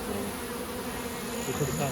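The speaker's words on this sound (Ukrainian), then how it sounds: "всі під'їжджаємо сірі бджоли, зараз дуже гарно" Carpathian honey bees buzz continuously in a dense, steady drone, filling the air with no other sounds standing out.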